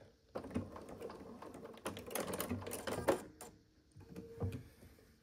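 A sewing machine stitches quilt pieces from corner to corner for a pumpkin-themed quilt, its close mechanical whirring and clatter running in a few short bursts with brief pauses between.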